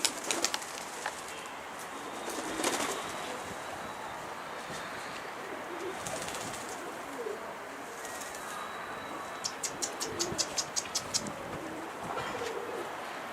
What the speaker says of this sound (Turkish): Kuşlar güneşin tadını çıkarıyor.